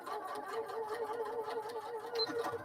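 A sewing machine stitching along interfacing and backstitching, a quiet steady whirring hum with a fast rhythmic needle patter, close and uninterrupted.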